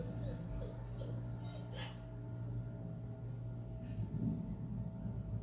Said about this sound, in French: il y a mon chien qui est juste derrière ma porte.